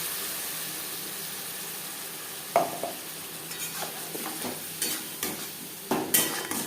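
Two large onions frying in a pan for chicken egg chow mein, a steady soft sizzle with repeated scraping stirs and clanks of the spatula at close range, no voices.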